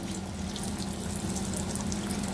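Bitter gourd pieces go into hot oil for an Andhra-style dish, producing a steady, dense sizzle and hiss that stays even and close throughout, without talk.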